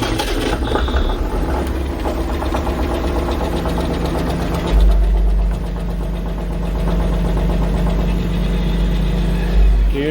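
A tractor engine runs at a loud, steady, rumbling idle in winter, with a deep thrum that swells briefly midway and again near the end.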